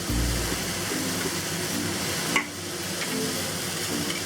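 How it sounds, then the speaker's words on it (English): Beef leaf tripe stir-fried with spicy pickled sour mustard, green onion and cilantro, tossed in a hot pan: a steady broadband sizzle and scraping stir runs throughout, with one sharper clack of the utensil midway and no voices. "Toss this for 10 seconds."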